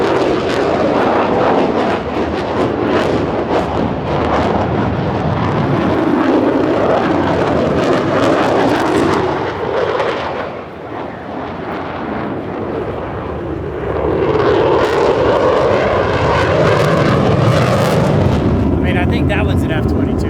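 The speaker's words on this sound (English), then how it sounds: "you can hear the F-35 just ripping around here, blowing their afterburners every time they come by" F-35 fighter jets at the Oshkosh airshow roar past with afterburners, a loud broadband rumbling that swells, dips around the middle, then surges again as another pass comes by.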